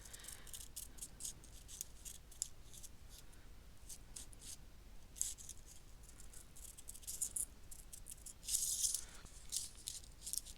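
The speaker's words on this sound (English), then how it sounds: "So I'm just going to cut that little piece out." Small scissors cutting a tiny piece of fabric for a stitched portrait, soft close snipping and rustling over several seconds, with a brighter burst of crisp cutting near the end and no voices.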